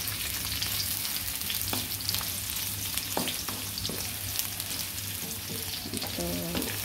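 Onion and garlic frying for chicken adobo, a steady close sizzle with occasional spoon scrapes and clicks, and a brief voice near the end.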